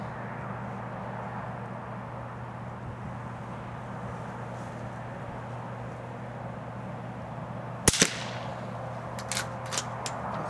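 .22 Short round test-fired, one sharp crack standing out from steady outdoor background noise, followed by a few fainter clicks and knocks.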